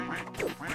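Ducks in a video game quack in quick, nasal bursts, several overlapping calls packed into less than a second, loud and close with no talk over them.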